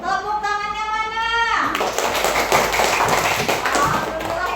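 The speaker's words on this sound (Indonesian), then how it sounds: "Tepuk tangannya mana?" Students in a classroom give a quick burst of clapping after a sustained tone, with rapid dense hand claps and children's voices mixed in close by.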